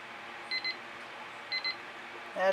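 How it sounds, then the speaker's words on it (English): A painting timer gives two short, faint bursts of rapid beeps about a second apart, in an otherwise quiet room. "That's the timer that says I've got 2 minutes left to tell you whatever I'm going to tell you."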